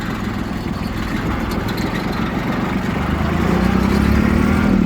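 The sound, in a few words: Mitsubishi MT241 tractor engine running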